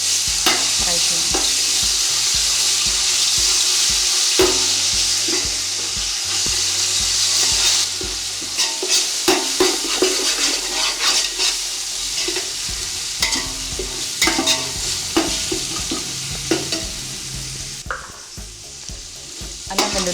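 Ginger garlic paste frying in a pan on a low flame for Andhra-style prawn biryani, with a continuous sizzle and repeated scraping, stirring strokes of a spoon against the pan, close and fairly loud.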